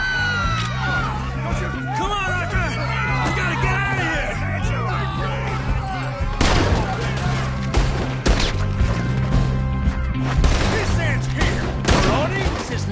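Chaotic gunfight in Red Dead Redemption 2, with scattered loud gunshots cracking over shouting voices and crowd noise, growing denser and heavier in the second half, close and intense.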